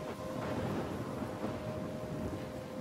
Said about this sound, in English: Seems like you're caught in the middle of a storm.